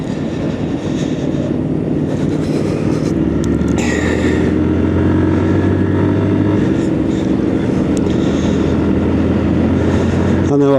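A motorcycle rolls along steadily, engine droning and wind rushing loud and constant throughout, with a faint shift in engine pitch partway through and a voice speaking over it.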